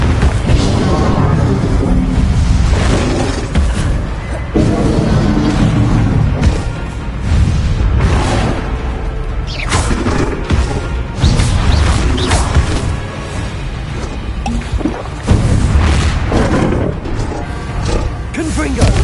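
Spell blasts from Bombarda and Confringo in Hogwarts Legacy, a dense run of loud booms, crashes and impacts going on almost without pause, with spoken voices mixed into the din.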